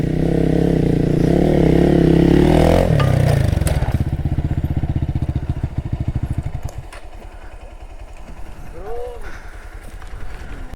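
A motorcycle ridden on a rough off-road trail toward Metkalgudde Shri Mahaganapati Temple, its engine droning loudly and then settling into a rapid rhythmic putter, with clattering and scraping over the ground and voices talking.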